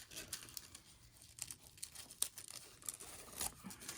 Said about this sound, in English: The bag is sealed. I'm gonna have to cut it to show you.